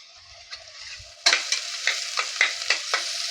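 Garlic paste drops into hot oil for a Bengali jackfruit curry, a sudden loud burst of sizzling followed by a rhythmic series of stirring scrapes over steady frying.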